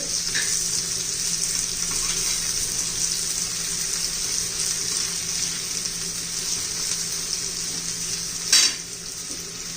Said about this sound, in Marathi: कांदा चांगला तांबूस कलरवर होईपर्यंत आपण परतून घेणार आहोत